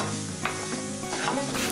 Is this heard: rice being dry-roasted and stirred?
yes